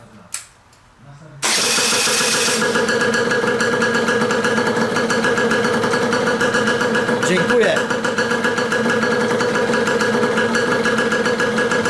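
An Aprilia RS 50 two-stroke motorcycle engine started without throttle or choke after an ignition repair, catching at once and then idling steadily and loudly with a fast buzzing rhythm; a brief spoken word comes over it.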